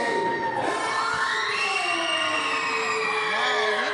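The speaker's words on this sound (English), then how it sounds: "there is a couple boos mixed in there, but it is mostly positive cheers" A wrestling crowd at a WXW event roars as a champion is introduced, a loud continuous wall of shouting and cheering with scattered boos mixed into the mostly positive noise.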